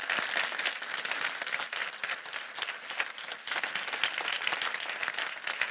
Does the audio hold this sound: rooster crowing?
no